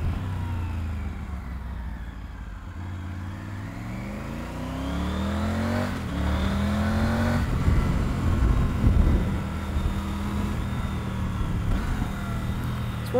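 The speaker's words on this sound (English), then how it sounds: "I'm just enjoying riding in the dry on a bike" A Triumph motorcycle being ridden on a dry road, its engine note rising and falling through gear changes with a steady close drone and wind rush, no talking over it.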